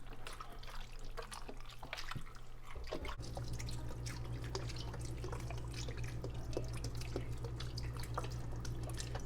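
Beef broth pours steadily into a Dutch oven for a pot roast, a continuous close liquid trickle with low hum and scattered drips, no talk.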